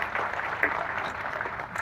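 An audience at a Konkan honour ceremony in Mumbai claps steadily, a soft, even wash of many hands heard from some distance, with no single claps standing out.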